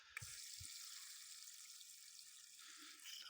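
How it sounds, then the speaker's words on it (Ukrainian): Water rushes steadily through a pressure washer supply hose as air is purged from the line, a continuous hissing flow that stays even throughout, with a couple of low knocks near the start. "трохи випускаємо води через шланг, щоб вийшов весь воздух"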